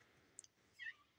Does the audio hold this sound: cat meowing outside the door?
yes